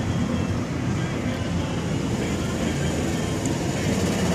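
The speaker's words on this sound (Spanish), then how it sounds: "Siguen los patrullajes del helicóptero, el Halcón 1 de la Policía Metropolitana de Cali" Halcón 1, the Cali Metropolitan Police helicopter, patrols over the Lomas de Siloé hillside district of Cali, a steady, fairly distant rotor and engine drone rumbling continuously without a break.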